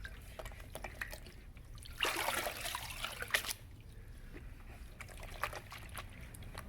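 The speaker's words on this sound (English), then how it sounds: "swish it around in the water to work some of the dirt off" A Mopar cold air intake from a 2015-and-up Challenger is swished around in water, giving a soft, steady trickle with a louder splashing surge in the middle before it settles back to a gentle slosh.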